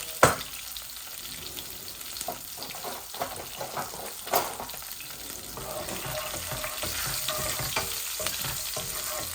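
Garlic, bay leaves and whole cumin fry in oil for a tilapia dish, giving a lively close sizzle punctuated by sharp knocks and scrapes of stirring, with the frying hiss growing steadier toward the end.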